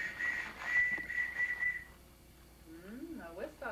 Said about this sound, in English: I got a whistle now.